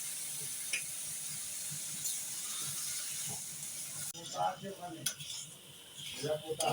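Spice paste mixed with spiced water cooks down in a pan for khichuri, a steady hiss followed by clattering scrapes and knocks of stirring against the pan.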